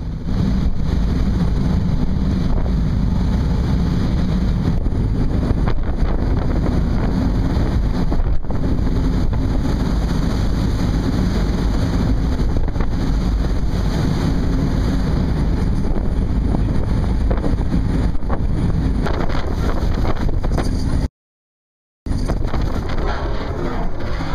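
Fast boat speeding across open water near New York, with steady loud wind buffeting the microphone and the hull's rush and engine roar throughout, broken by a brief dropout near the end.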